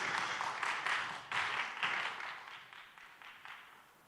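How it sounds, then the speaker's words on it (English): A panel-discussion audience applauds the panelists, a brief burst of clapping that fades quietly over a few seconds. "let's give it a big round of applause to all the panelists."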